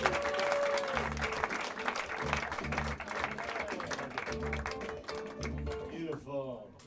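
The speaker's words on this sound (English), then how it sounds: "Start clapping right now for Alex Dragicevich" Comedy club audience in Chicago clapping to welcome the next stand-up comic, a steady dense patter of applause filling the room, with music and a voice underneath, fading toward the end.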